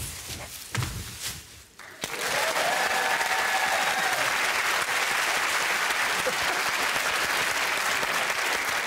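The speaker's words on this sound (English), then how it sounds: "Fans, let me see you clap your hands." A television comedy panel show audience bursts into loud sustained clapping after a couple of seconds of quieter mixed sound, holding a dense, even roar of hands to the end.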